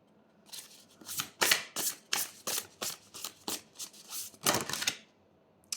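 A deck of oracle cards is shuffled by hand in a quiet room, a series of close, crisp riffling bursts in uneven rhythm, about a dozen of them, with no talk.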